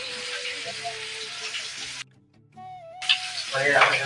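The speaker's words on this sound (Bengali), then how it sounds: "মাছ ভাজা" Fish, small puti, sizzling as it fries in a pan, a steady broadband crackle that cuts out briefly partway through before returning louder, with a short tonal clatter in the gap.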